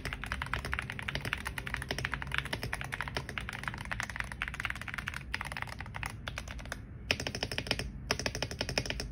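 Steady, close typing on a Yunzii C68 keyboard fitted with Yunzii linear switches and PBT keycaps, a continuous run of quick keystrokes with only brief pauses.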